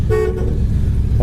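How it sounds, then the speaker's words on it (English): The horn of a 1967 Chevelle Super Sport gives one short, loud honk up close, with a steady tone over a low rumble. "Horn works."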